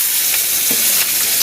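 Onion, green chilli and tomato hit hot oil in a kadai with bay leaf, whole garam masala and dried red chilli for rohu fish kalia, giving a loud, close, continuous sizzle with no talking.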